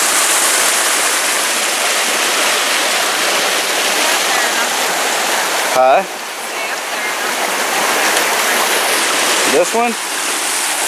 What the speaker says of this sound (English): It's definitely a spring, and man, you can see how much water it is putting out.